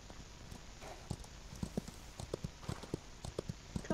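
Donkey hooves in the Old West video game Outlaws of the Old West, a run of uneven clip-clop steps on hard ground that starts sparse and then comes more quickly, close and fairly quiet, with no talking.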